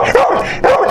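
A dog barks twice in quick succession, close and loud, each bark short and sharp.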